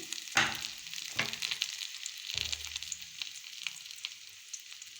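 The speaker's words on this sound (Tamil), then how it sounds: "நல்லா எண்ணெயிலே நல்லா வதக்கிடணும் பாவக்காயை" Bitter gourd sautés in oil with a continuous crackling sizzle. A few utensil knocks and scrapes sound near the start.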